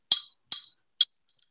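Three bright metallic clinks from metal nuts and bolts, spaced about half a second apart, the first two ringing briefly and the last one short, with a faint tap at the end.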